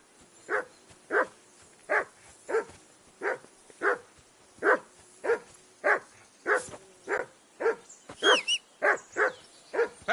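A dog in the video game Kingdom Come Deliverance 2 barks insistently, about sixteen evenly spaced barks in a steady rhythm, with a brief high whine near the end.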